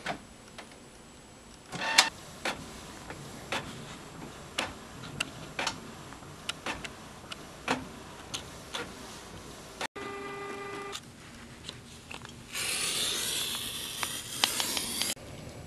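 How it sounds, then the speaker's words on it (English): A home inkjet-style printer feeds colored cardstock, with repeated sharp ticks and mechanical clicks, a brief motor hum, then a loud hissing sweep of the print carriage near the end, close and without talk. "And this is my mess of a printer."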